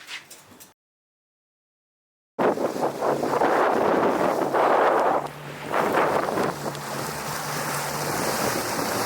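Strong cold-front wind hammers a microphone out on open water during a muskie fishing trip, a loud roaring buffet that surges and gusts after a brief silence, with splashing waves beneath.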